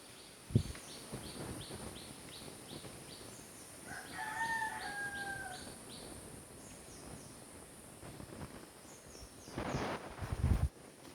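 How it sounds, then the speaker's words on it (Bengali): Birds, including doves, call faintly outdoors, with repeated chirps and a drawn-out crowing call in the middle, against a soft breezy background. "আর ঘুঘু পাখিও ডাকছে, এমনি পাখিও ডাকছে, অনেক অনেক পাখিও ডাকছে।"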